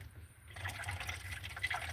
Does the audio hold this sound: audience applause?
no